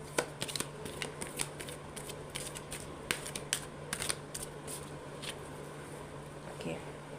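A Shiva Shakti oracle card deck being shuffled by hand, a series of soft crisp riffling flicks and taps in an irregular rhythm, close and fairly quiet over a steady low background hum.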